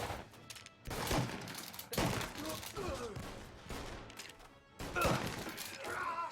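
Gunfire in the video game Mafia: Definitive Edition, with several loud bursts of shots and impacts separated by short pauses, against a busy background.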